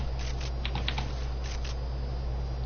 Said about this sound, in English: That's the fastest I can edit on keyboard.